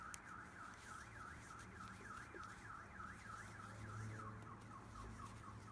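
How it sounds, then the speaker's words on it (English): A car alarm wails in a repeating warbling pattern, muffled and distant as if heard from outside, steady for several seconds. "I'm sorry if you could hear a car alarm outside."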